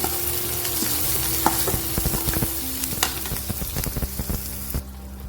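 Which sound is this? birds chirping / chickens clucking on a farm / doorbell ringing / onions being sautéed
onions being sautéed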